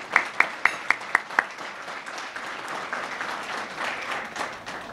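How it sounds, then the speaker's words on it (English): Audience applause at a chamber of commerce small business awards luncheon, a few sharp claps up front swelling into a steady round of clapping from the room that holds for several seconds. "Let's have a round of applause for Sheila and Jason and the whole team"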